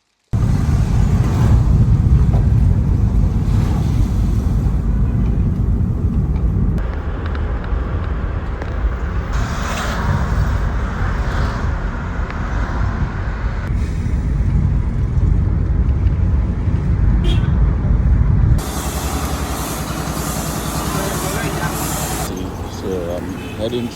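Inside a moving car, a steady low road and engine rumble fills the cabin, shifting abruptly partway through, with a person talking over it.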